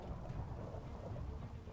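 Acid rain and thunder in a Minecraft adventure map, a dense steady wash of rainfall with low rumbling throughout, fairly quiet and without talk.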